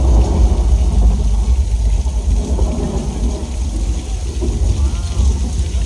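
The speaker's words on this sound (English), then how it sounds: "Hey, you guys, can we cut the rain, please?" Artificial rain pours down on a studio backlot set, a dense, loud, steady hiss and rumble filling the scene continuously.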